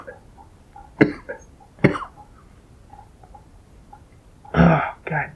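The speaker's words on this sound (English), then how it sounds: "I'm going to be coughing all the time." A person close by coughs in several harsh, separate bursts, with a final pair of heavier, rougher coughs near the end.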